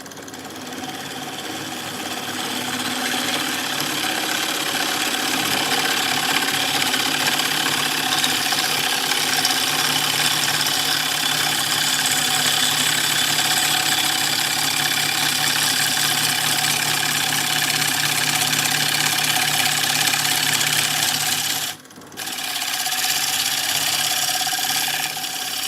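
An engine idles steadily at about 1100 RPM, a constant mechanical drone with a faint ticking, ratchet-like texture running throughout, briefly cutting out near the end before resuming.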